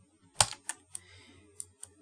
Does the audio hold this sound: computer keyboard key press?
yes